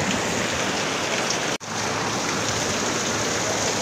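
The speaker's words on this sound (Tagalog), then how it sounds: "Bumuhos ang napakalakas na ulan." Heavy evening rain pours down on a vegetable garden in a steady, dense roar, with one brief dropout partway through before the downpour continues unchanged.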